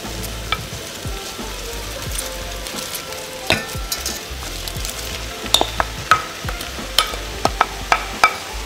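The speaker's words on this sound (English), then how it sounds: "We'll go ahead and stir everything together." Chopped fall soup vegetables, including celery, carrots and purple cabbage, sizzle steadily in a pot as a utensil stirs them, with sharp scrapes and knocks that grow more frequent toward the end.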